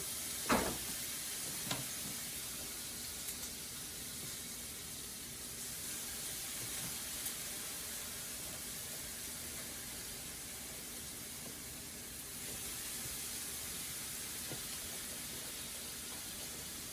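Milk-and-banana-soaked bread hitting a hot pan, a soft slap followed by a steady, even sizzle and hiss that fills the clip, close and moderate in level with a couple of faint knocks and no talking.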